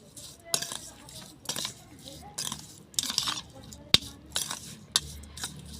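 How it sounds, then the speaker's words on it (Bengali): A spoon clinks and scrapes against a bowl in repeated bursts while seasoned snack ingredients and a spoonful of sugar are mixed, with soft speech between the strokes. "এখানে দেখো সব কিছু আমি মিশিয়ে নিচ্ছি ভালো করে"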